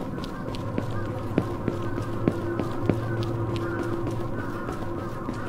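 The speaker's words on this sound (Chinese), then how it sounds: "我听到高跟鞋的声音，但是我看不到的人，" High-heel footsteps in a horror video game click sharply and evenly, about one step every half second, over a constant murmur of crows and ambient drone.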